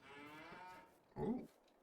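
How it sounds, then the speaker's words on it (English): A farm cow gives one short, low moo near the end, close by but fairly quiet, after a stretch of soft background sound. "We got one of the cows right here."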